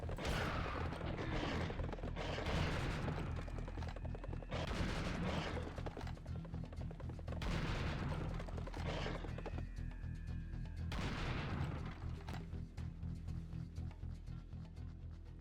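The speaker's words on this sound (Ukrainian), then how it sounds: "Ну треба ж трошки двостволкою постріляти" A double-barrel shotgun in the video game Serious Sam The First Encounter HD fires repeatedly, heavy booming blasts every two to three seconds, each with a long rolling tail, all at low volume with no talk.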